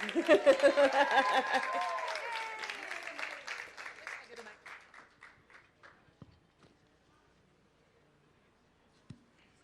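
Audience cheering and applauding as a panel is brought up at a fashion and brand activism talk, loud whooping and clapping at first that thins into scattered claps and fades to near silence, with a single late clap.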